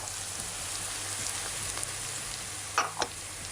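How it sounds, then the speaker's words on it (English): Potatoes and carrots sautéing over high heat in a pot for lentil soup, a steady, even sizzle throughout with a couple of brief stirring clacks near the end, close-up and with no talk. "we're going to saute that for around 5 minutes now"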